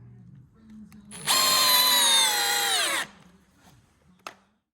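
A power drill drives screws into a wooden workbench, a single close, loud whine lasting under two seconds whose pitch sinks as the screw tightens, with faint handling noise around it.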